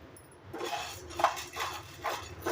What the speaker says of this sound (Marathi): शाबुदाणे ह्याच्यामध्ये मी घालून घेते आणि आपल्याला हे भाजून घ्यायचे आहेत